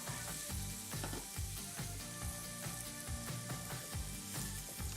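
Onions and garlic cooking down in a pan, with a soft, steady sizzle and faint intermittent clicking and scraping, fairly quiet and uninterrupted by talk.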